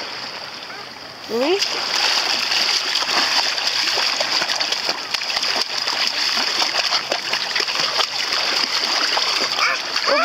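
Choppy sea water sloshing and splashing steadily against a small boat on an outing at sea, a continuous close wash with a voice speaking briefly.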